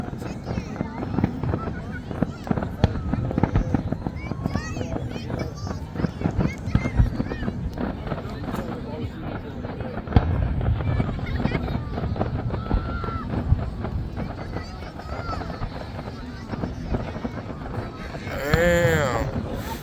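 July 4th fireworks going off: a dense run of crackling pops and booms, some near and sharp and others fainter, continuing steadily with people talking over them.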